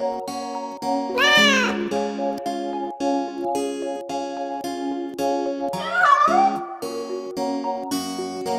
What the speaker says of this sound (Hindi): एक बिल्ली हमारी कैसे बैठी बेचारी